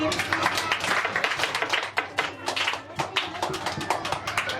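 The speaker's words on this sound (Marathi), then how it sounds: "टाळ्या वाजवा एकदा ऋग्वेदसाठी" A crowd claps steadily for a student at a school competition, dense overlapping applause lasting throughout with some voices mixed in.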